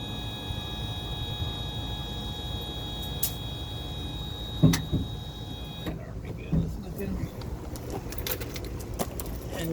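An electric DRV RV leveling jack motor runs steadily as a continuous mechanical hum, straining as it binds, with a few clunks and jangles partway through and a change in tone near the end.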